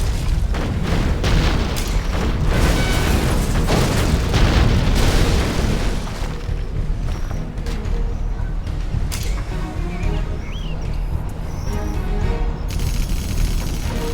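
Scud Storm missile strikes in the strategy game Command & Conquer Generals Zero Hour, a dense run of loud, overlapping booming explosions that thins out into rumbling debris and scattered smaller blasts.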